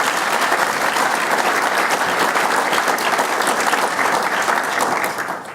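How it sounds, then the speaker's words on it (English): An audience at a Victorian State Parliament iftar dinner gives sustained, dense applause for the MC, loud and even throughout before tapering off at the end, with no talking. "A round of applause, ladies and gentlemen."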